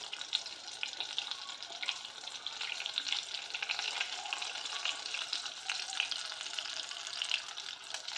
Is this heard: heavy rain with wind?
no